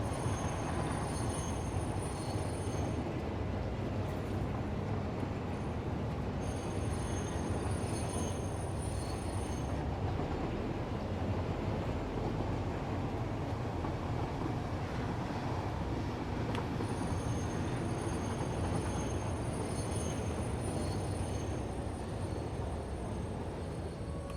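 A train in the factory-building game Satisfactory rolls along rails with a continuous rumbling roar, rhythmic wheel clatter and recurring high squeals, loud and steady throughout with no talk.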